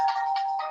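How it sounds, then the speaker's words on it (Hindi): A phone ringtone plays a short repeating electronic melody in bursts, loud and close, alone with no talk over it during a spoken reading. "सॉरी बीच में कोई एक फोन आ गया था इम्पोर्टेंट, इसलिए मैंने उठा लिया"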